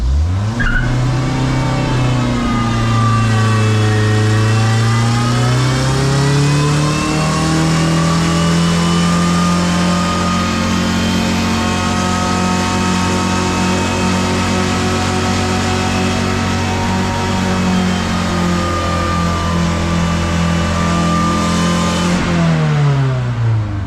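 Vintage car engine revving hard during a burnout attempt, a loud sustained roar that climbs and holds high before dropping off at the end, close and without talk.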